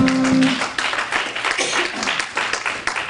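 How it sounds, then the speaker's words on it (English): A small crowd in a Bloomington bar claps for a live music act, a dense, fairly close patter of applause that swells early and then thins and tapers off with faint voices mixed in. "let's clap because we're in their midst"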